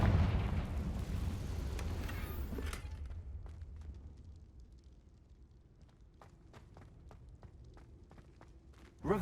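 The Confringo spell exploding in the video game Hogwarts Legacy: a loud burst that rumbles and fades over a few seconds, followed by faint footsteps and small clicks, then a sudden sharp hit at the very end.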